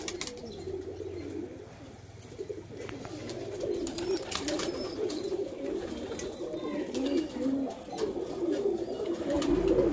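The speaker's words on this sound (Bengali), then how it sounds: "সব প্রচুর পায়রা আছে এখানে।" A large flock of high-flying pigeons coos in a continuous low murmuring chorus, with scattered wing flaps and clicks over it, fairly loud and without talk.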